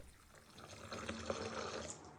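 Water is poured into a bowl of peas, cauliflower florets and cut potato, a soft, close splashing and trickling that builds steadily and stays fairly quiet.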